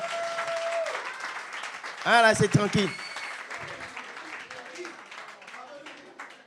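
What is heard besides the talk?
audience applause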